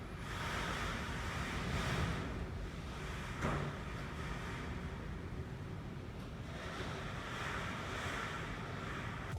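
Hurricane Ian's winds and storm surge produce a continuous broadband roar like heavy surf, swelling and easing in slow waves over several seconds, loud and unbroken, with no voices.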